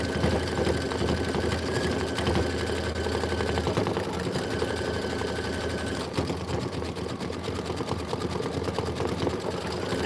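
Close, continuous motor whir of a sewing machine stitching a quilt block with flower and pennant pieces, running steadily throughout with no talking.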